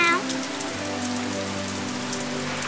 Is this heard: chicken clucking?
no